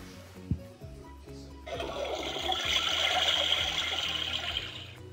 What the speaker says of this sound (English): here, let's get up and flush it